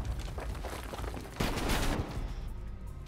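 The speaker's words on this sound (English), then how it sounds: "all those shots!" Gunfire in the video game Black Ops Cold War comes as a dense, continuous volley of rapid shots that swells midway and then fades, heard up close with no talking.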